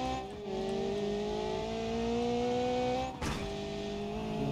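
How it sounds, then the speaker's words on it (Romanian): A car engine drones and booms in BeamNG.Drive multiplayer, running without a radiator, a steady low rumble with shifting tones and one abrupt jolt partway through, moderately quiet with no voices. "de mereu aud bumul ăla cum îți bubuie motorul"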